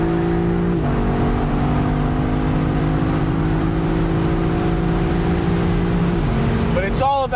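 Lexus LC500 convertible's engine droning steadily and loudly while driving, with a shift in pitch near the start and another near the end, followed by a brief rising rev at the close.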